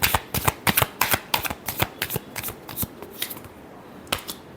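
Tarot cards are shuffled in quick, crisp bursts of riffling flicks, close and clear, with brief gaps between runs and no talking.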